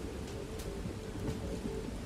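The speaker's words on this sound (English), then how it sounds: "It's raining." Continuous video game rainfall in Bugsnax with faint scattered drops and a low rumbling undertone, fairly quiet and unbroken.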